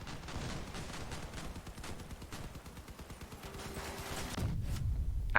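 Heavy weapons fire in the vehicle combat game Crossout, with dense, continuous cannon shots and blasts close and loud, ending in a louder, deeper explosion burst near the end.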